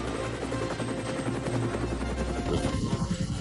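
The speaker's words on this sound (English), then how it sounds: "Suddenly, there's a strange whirling sound." Harold the helicopter, a model-railway character, comes in to land in the snow, its rotor a continuous, loud, fluttering whir with a deep rhythmic chop that holds steady and close.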